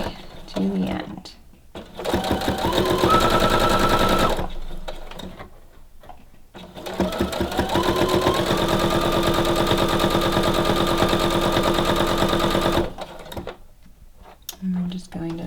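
Sewing machine stitching fabric for decorative bunting: two long runs of rapid, even mechanical clatter, close and loud, separated by a short pause and framed by a voice talking before and after.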